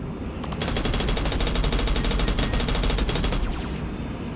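Aircraft machine guns in a flight combat video game fire in a continuous, dense rattling burst, loud and steady throughout with no pauses.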